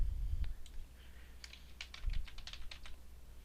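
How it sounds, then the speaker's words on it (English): Fast bursts of keystrokes on a computer keyboard, close and fairly quiet, with uneven clusters of taps while a name is typed in, no talking. "typing a new name for the button"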